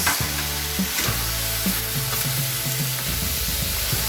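Squid balls frying with cauliflower and carrots in a pan, a steady loud sizzle with stirring clatter throughout, no voices.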